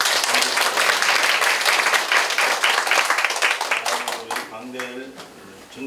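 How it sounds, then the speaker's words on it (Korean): A congregation applauds to congratulate newly ordained church officers at a Korean Presbyterian thanksgiving service, dense clapping that thins out after a few seconds as a voice begins speaking over the last scattered claps. "또 축하의 박수 드립니다."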